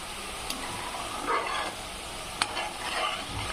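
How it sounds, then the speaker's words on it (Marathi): Masala spices fry over low heat in a pan for an egg curry, giving a steady close sizzle with soft stirring scrapes and a couple of sharp clicks from the spoon. No one speaks. "आपला मसाला फ्राय होत आहे"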